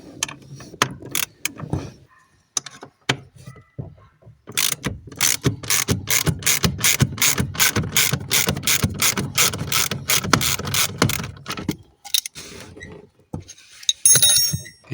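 A ratchet clicks in quick repeated bursts while a nut and bolt come off Alfa Romeo 33 1.7 16V parts during a teardown, loud and close, with pauses between runs.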